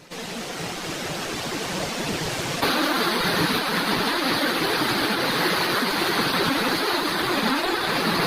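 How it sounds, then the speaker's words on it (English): A swollen brown flood river churns through rural farmland and villages, a loud continuous rushing roar of water that swells and thickens partway through, with no voices. "swollen rivers surged through rural communities, toppling stone bridges and engulfing low-lying farmlands"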